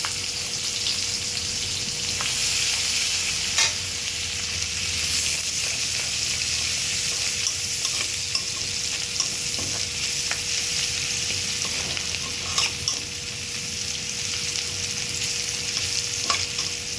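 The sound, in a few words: frying chopped onions and cumin in oil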